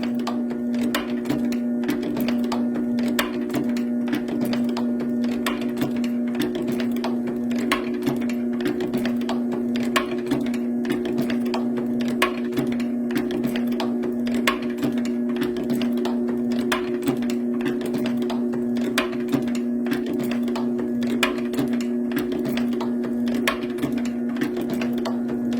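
A rebuilt late-1800s chain-making machine runs continuously with a dense, fast mechanical clatter and rhythmic ticking over a steady droning hum, loud and close with no pauses.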